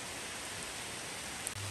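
Steady rain falls outdoors at night, a dense continuous hiss of drops on surfaces with a brief click near the end and no talk.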